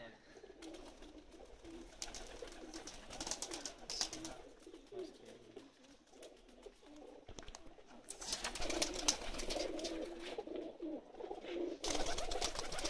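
Pakistani pigeons coo softly and repeatedly, a low murmuring chorus punctuated by wing flutters and rustling, with faint chatter in the background.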